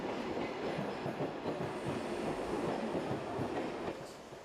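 A train runs along rails on the way to Geneva, Switzerland, giving a steady, loud rumble with a rhythmic clickety-clack of wheels over the track that continues throughout, with no voices.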